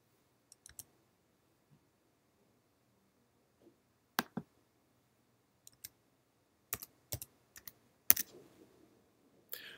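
Sparse clicks and taps on a computer keyboard while entering a zip code into a homeowners insurance quoting form, arriving in short irregular bursts against a quiet background with no talking.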